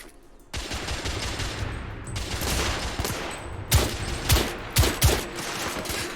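Rifle fire in The Order: 1886, a quick volley of loud sharp shots after a half-second lull, followed by several spaced, punchy reports over continuous battle noise.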